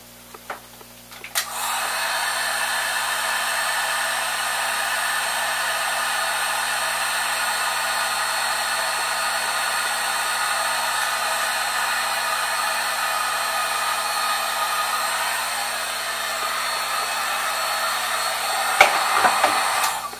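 A heat gun shrinking heat shrink tubing on wiring for a 3D printer build, a steady, loud blowing whoosh that starts abruptly and runs continuously, then cuts off near the end with a brief clatter.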